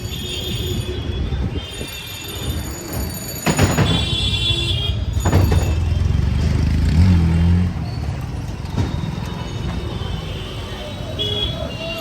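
Riding a rickshaw through Varanasi traffic toward the bus stop, with a steady engine rumble, passing vehicles and brief screeching bursts, while a person talks intermittently over the street din.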